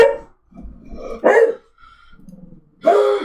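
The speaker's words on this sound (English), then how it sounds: "Have the guard dog bark a little bit." A guard dog barks in three short bursts spaced across a couple of seconds, fairly close and loud, with quiet gaps between and no talking.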